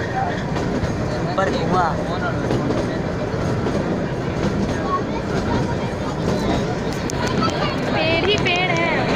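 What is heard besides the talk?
passing train on a hill line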